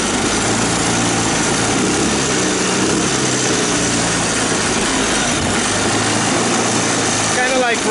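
An old barn-find ATV engine runs steadily and loud throughout a ride, a constant buzzing drone with little change in pitch, close to the listener.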